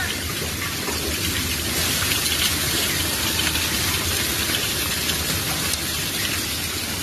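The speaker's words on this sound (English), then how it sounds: "It's still dropping hail." Hail falling steadily outside during a storm, a dense, continuous patter of icy stones striking surfaces and a nearby car, loud and unbroken throughout with no talk over it.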